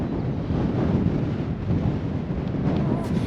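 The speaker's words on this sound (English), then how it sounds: "Ooh, a bit breezy on this section." Wind blowing hard across a microphone on a coastal footpath near Welcombe Mouth, a loud, continuous buffeting roar with no pauses.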